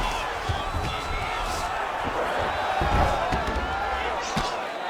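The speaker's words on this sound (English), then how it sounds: "huge pop from the crowd as the fighters get back up to their feet" A virtual arena crowd in a UFC video game on PS5 roars in a sustained, loud wash of cheering during a fight, with commentator talk running over it.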